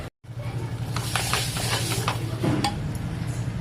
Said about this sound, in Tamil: நம்ம இப்போ நெய்யில் முந்திரி பருப்பு நல்லா வறுத்து போட்டுக்கலாம்.